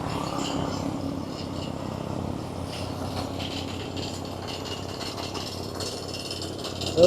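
A well-drilling rig bores a groundwater well, giving off a continuous low mechanical rumble and faint clattering at moderate loudness, steady throughout with a sharp knock at the very end.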